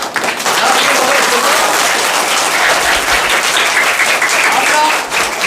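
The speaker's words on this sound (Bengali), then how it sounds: "একটু ওনার জন্য জোরে হাততালি হোক।" Loud, sustained applause from an audience at a school gathering honouring a volunteer craftsman who has worked there unpaid for four years, the clapping dense and continuous from start to finish.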